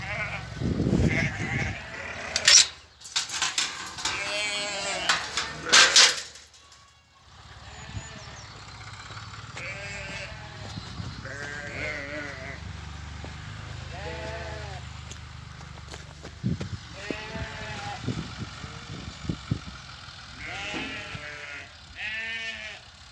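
Sheep bleat repeatedly at a rural farmyard, the calls coming in loud clustered bursts near the start and then softer, scattered ones from several animals, with a low engine rumble and occasional voices in the background.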